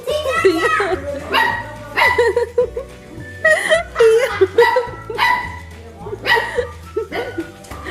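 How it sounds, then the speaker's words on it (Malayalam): A small dog barks in sharp, repeated bursts during a family outing near a pond, with people talking and laughing over and between the barks. "ഈ ചെറിയ നായി കുരയ്ക്കാൻ തുടങ്ങി"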